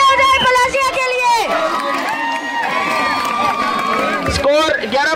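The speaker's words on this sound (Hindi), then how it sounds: "एक बार जोरदार तालियां हो जाए पलासिया के लिए" A loud crowd cheers and whoops for the Palasiya team at a village kabaddi match against Mataji ka Kheda, the roar rising and swelling steadily with shouting voices mixed through it.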